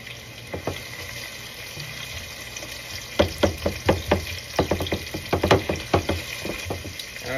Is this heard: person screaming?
no